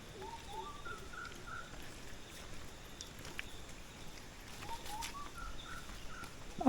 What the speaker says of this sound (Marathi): सकाळी सकाळी आम्हाला अनेक पक्ष्यांचा आवाज या ठिकाणी ऐकायला येतोय